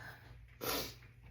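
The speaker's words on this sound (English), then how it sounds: "keep sniffing. Colds are going around" A single short nasal sniff from someone with a cold, a quick breathy burst amid quiet room tone, close and fairly soft.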